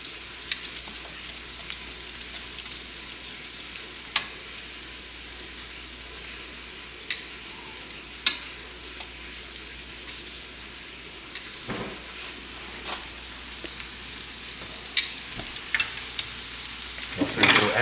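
A New York strip steak sizzling in a hot pan, a steady hiss with occasional sharp pops and clicks that grow busier toward the end, close and alone without talk.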